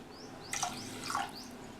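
Water is poured into washed parboiled rice in a pot for curd rice, a brief splashing rush rising in the middle of the clip at moderate volume, with no talk.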